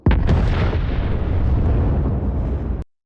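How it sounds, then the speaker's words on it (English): A massive explosion of a truck loaded with nitroglycerin in a movie scene, a sudden close blast that rolls on as a dense, loud rumble for nearly three seconds before cutting off abruptly. "then bam! There's a big explosion."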